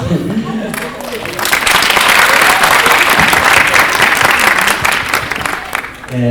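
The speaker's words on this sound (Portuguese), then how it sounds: "Palmas." A room full of people applauds, a dense wash of clapping that swells and holds for several seconds before fading, with voices at the start.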